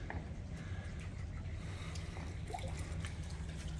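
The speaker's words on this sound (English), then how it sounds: "And more running water, fountains, love it." Fountains splash and run steadily at a house in San Miguel, a continuous low wash of water that holds at an even, moderate level throughout with no voices.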